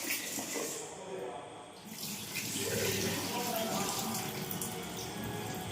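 Tap water runs steadily into a vessel in a home kitchen while biryani is being prepared, a soft continuous splashing flow that swells slightly midway, heard fairly close and quiet.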